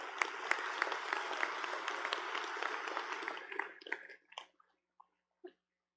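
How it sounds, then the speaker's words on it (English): Graduates and guests at a community college commencement ceremony clap in a moderate burst that fades out after about four seconds, leaving a few scattered claps in near silence. "That was a good point to applaud to."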